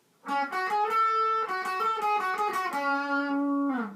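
Guitar playing the final section of a battle theme from Pokemon Omega Ruby/Alpha Sapphire, a quick sequence of close, bright single notes that settles into a long sustained note before stopping.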